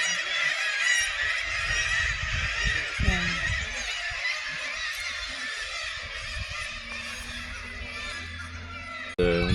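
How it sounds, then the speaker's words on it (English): Waterfowl such as geese honk and call in a dense outdoor chorus near boat docks on a nature walk, loud and continuous, with brief low rumbles underneath. "some birds singing songs of praise to the Creator"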